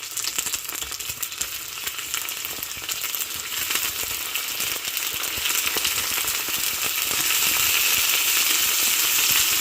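Chicken pieces frying in a pan with browned onion and garlic for a chicken sayote sauté, a steady loud sizzle and crackle that grows more intense as it goes on, with no talk.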